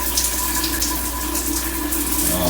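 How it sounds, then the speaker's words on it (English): An adjustable hotel shower head sprays water steadily, a dense, even hiss that continues unbroken throughout at close range. "we have a pretty nice spray in the shower"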